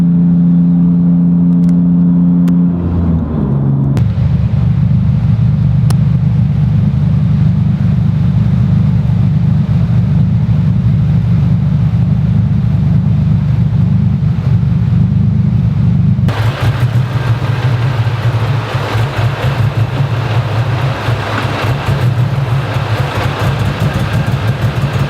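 A Nissan 370Z with a CJM top hat installed runs loud and close at full throttle, its engine roaring steadily and then stuttering and breaking up, with the tone shifting partway through a sustained pull.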